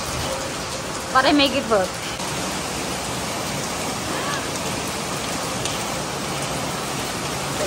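Heavy rain falls steadily in Cambodia, a thick and continuous hiss close by, with a person speaking briefly near the start.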